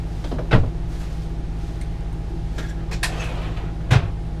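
Two short wooden thumps of dresser drawers being pushed shut inside a Jayco Seneca Class C motorhome, about three seconds apart, over a steady low background hum.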